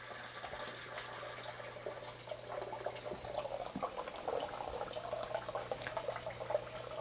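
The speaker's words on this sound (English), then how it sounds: "When you lift the pressure valve at the top, it allows that water to flow out freely." Water pouring out of a 40-gallon hot water heater after the pressure valve at the top is lifted, a steady close gushing flow like a running tap, with a low hum fading partway through.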